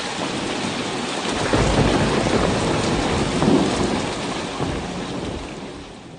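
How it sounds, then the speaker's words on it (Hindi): Heavy, steady downpour of rain with deep rolling thunder rumbling underneath, swelling loudly around the middle and easing slightly toward the end, no voices. "उनके जाते ही आसमान में काले बादल छा गए और मूसलाधार बारिश शुरू हो गई"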